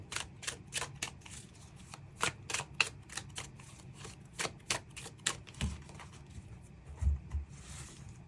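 Tarot cards shuffled and drawn in a quick run of crisp, close flicks and slaps with a few softer shuffling rustles near the end, and no voice.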